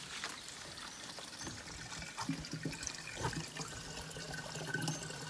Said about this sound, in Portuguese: Vou pegar uma aguinha fresca aí.